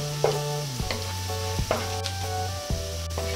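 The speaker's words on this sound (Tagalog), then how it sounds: "pwede na dito na lang igisa yung ating bawang" Garlic sautés in a pan for a garlic shrimp dish, a steady close sizzle running throughout with no voices, broken by faint clinks and a low recurring hum.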